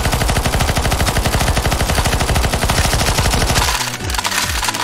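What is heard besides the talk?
gunfire shooting the boss in CS:GO Zombies video game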